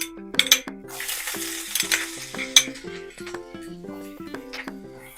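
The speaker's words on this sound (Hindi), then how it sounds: "अब हम इसमें ये लहसुन और अदरक ऐड करेंगे।" Garlic and ginger frying with whole red chilies in a pan for dhaba-style aloo gobi masala, a steady close sizzle with a few sharp stirring clinks of utensil on metal early and midway.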